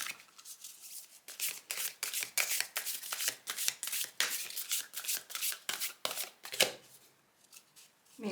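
A deck of oracle cards is shuffled by hand in rapid, repeated riffling bursts, close and crisp, trailing off into a quieter pause near the end, with no talking.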